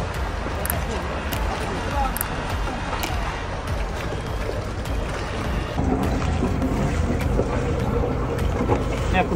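Catamaran engines idling in reverse while docking, a steady low rumble mixed with wind and water noise throughout, with people talking over it.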